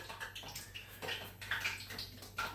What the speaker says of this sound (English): you can just pour Frank's into this pan here straight with no butter